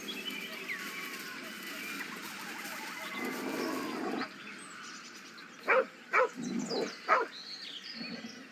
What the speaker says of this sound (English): The dog lowers his hackles, his head tilted inquisitively.